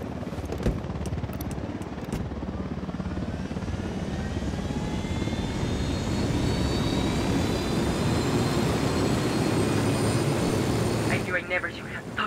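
An enemy helicopter passes overhead in the tactical shooter Ghost Recon Wildlands, a loud continuous rotor and engine drone with slowly shifting pitch that holds throughout, with brief clicks early on and a short tonal cue near the end.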